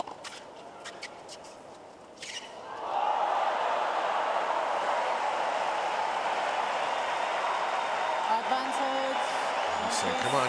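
A tennis crowd at the US Open semifinal in hot, humid New York breaks into a sustained roar of cheering and whistles that swells suddenly and holds loud, with a commentator talking over it.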